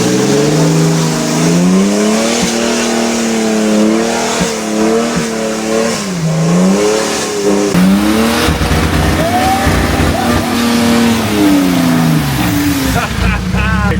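A Toyota 4Runner fitted with an LS engine rumbles along in 2H off-road, the close, loud engine note rising and falling as the throttle works, with people talking over it throughout.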